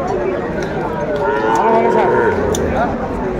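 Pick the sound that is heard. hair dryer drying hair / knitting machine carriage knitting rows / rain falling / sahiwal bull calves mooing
sahiwal bull calves mooing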